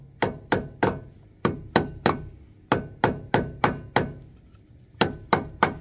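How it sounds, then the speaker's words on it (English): A hammer strikes a trailer wheel hub about fifteen times in steady, closely spaced whacks, each a loud, sharp metallic thud with a brief decay, with one short pause near the end. "I'm gonna whack her a few times over here"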